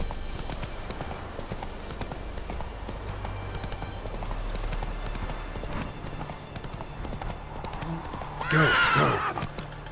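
Roach the horse gallops in The Witcher 3 with a steady rapid clatter of hooves at moderate distance, and a short loud neigh breaks out near the end.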